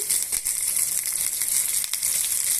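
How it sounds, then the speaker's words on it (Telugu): Green chillies, five or six of them, frying in a pan with a loud, steady hiss and crackle of hot oil, close up with no talk. "ఇందులోనే పచ్చిమిర్చిని కూడా యాడ్ చేసుకోవాలి"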